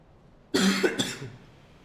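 Two harsh coughs, close and fairly loud, one after the other, with a brief throaty tail and quiet afterward, heard while someone plays a video game.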